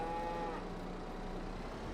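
A cow in Farming Simulator 22 gives a sustained, droning moo, loud and close, with faint farm ambience underneath and no one talking.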